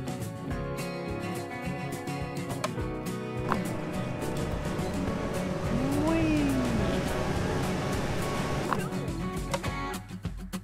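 Cars drive past in Gas Station Simulator, a steady hum of engines and tyres with a rising and falling pass-by whine near the middle, heard under talk.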